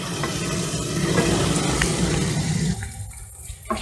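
Steady loud sizzling of prawns frying in hot oil, with a rushing, bubbly texture that eases off toward the end.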